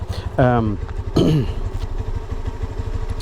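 A motorcycle idling after the choke is turned off, a steady low rhythmic putter running throughout, close by, with a couple of brief voice-like tones over it.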